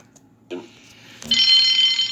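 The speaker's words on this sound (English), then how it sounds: "Soon came the alarm." A bell begins ringing and rises into a continuous, bright, loud jangle after a brief quieter stretch.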